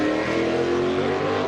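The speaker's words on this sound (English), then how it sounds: "We're going to get a good listen to the F1 car" Jordan Formula One race car engine at a speed festival track, a loud sustained roar with steady high-pitched harmonic drone, continuous and close throughout.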